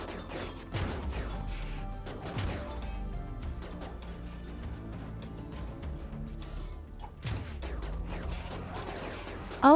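Pulse rifles in RimWorld fire in repeated bursts, a dense, crackling volley of sharp shots with a few louder cracks standing out and steady background game sound behind them.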